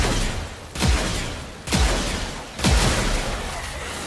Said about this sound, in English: It was shooting a wall there